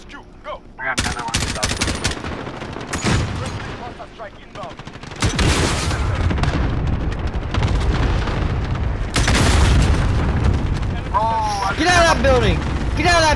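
An RPG blasts a building in Call of Duty: Modern Warfare during a Headquarters match, with several heavy booming explosions and bursts of gunfire across the stretch and a voice talking over the action.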